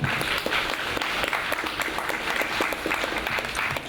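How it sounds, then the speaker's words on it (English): An audience at a school leaving ceremony claps continuously, a dense crowd applause with a few sharper individual claps standing out, steady and close. "Clap, clap, clap."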